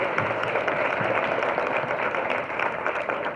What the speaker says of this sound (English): So let's all give Polly a round of applause.